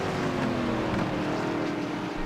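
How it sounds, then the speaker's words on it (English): NASCAR Cup Series Next-Gen race cars circulating on track in iRacing at Daytona, giving a steady, droning engine roar that holds at a moderate level throughout, with no talking. "You hear that? Cars on track."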